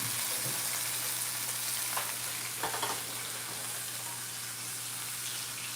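Tuna frying in a pan over medium heat, a soft steady sizzle with a few brief scraping stirs, fairly quiet and close.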